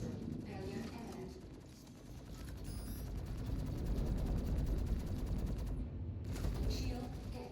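Weapon fire striking ship shields in the Star Citizen space game, a steady stream of rapid mechanical impact bursts and rattling with a brief dropout near the end, mixed with faint voice and ship audio.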